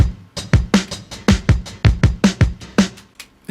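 Two overlapping copies of a drum loop play together, giving a busy, slightly messy pattern of punchy kicks and snares hitting in quick, uneven succession, close and clear.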